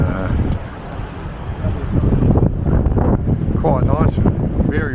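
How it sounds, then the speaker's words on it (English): Strong wind gusts buffeting the microphone on a busy St Kilda Beach on a Saturday, a steady roar with close speech over it. "If you can hear me over this wind."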